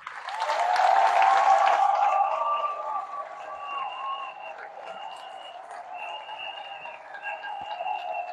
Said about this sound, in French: C'est pourquoi on va vous applaudir maintenant